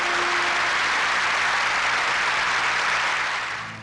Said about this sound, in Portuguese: Dê para ele uma linda salva de palmas